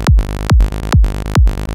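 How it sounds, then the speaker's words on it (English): A Serum standard sawtooth bass synth pitched down an octave, punchy psytrance-style bass notes with a sharp falling attack, four even, rapid hits repeating about every half second, loud and up front. "for the sawtooth that we're going to use, which is just Serum's standard sawtooth"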